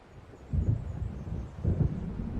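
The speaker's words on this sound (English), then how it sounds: "It seems there's a storm coming." Thunder from an approaching storm in the video game Alan Wake: two deep, rolling rumbles a second apart over a steady wind-like hiss.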